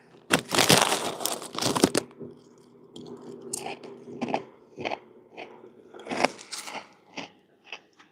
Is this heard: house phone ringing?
no